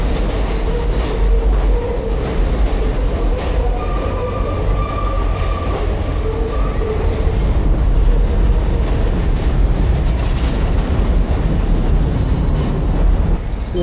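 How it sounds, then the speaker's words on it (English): NYC subway 7 train passing nearby on a city street, a loud sustained roar of rumbling wheels with high metallic squeals rising over it, heard alone without talking. "I wonder if seven trains are running today."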